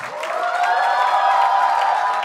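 A studio audience at a comedy show bursts into continuous applause and cheering to welcome performer Nayab Midha on stage, a bright, dense wash of clapping that swells and holds steady.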